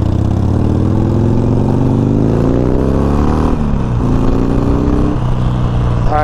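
A Harley-Davidson Sportster Iron 1200 motorcycle rolls through a turn, its steady engine drone and low harmonics continuous throughout, with the pitch gently falling and then rising again as it slows and picks back up.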